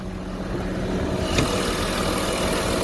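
A 2014 Porsche Cayenne's 3-liter V6 turbo diesel idling under the hood, a steady, even engine rumble with a dense diesel clatter, close and continuous.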